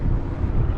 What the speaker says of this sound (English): we got some ridiculous wind here